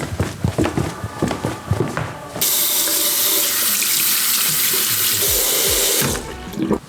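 Tap water runs into a sink for about four seconds as hands are washed, a steady close rushing after some clattering handling sounds, then the flow cuts off.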